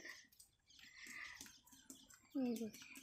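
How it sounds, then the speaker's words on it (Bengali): Birds call and chirp sporadically just after the rain eases, with short tweets scattered through quiet moments and a louder, nearer call toward the end. "একটু বৃষ্টি কমতেই পাখিগুলো আবার চেঁচাতে শুরু করেছে"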